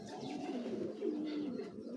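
Racing pigeons coo in low, rolling murmurs over a quiet, steady background hum, several gentle warbling calls running together at close range.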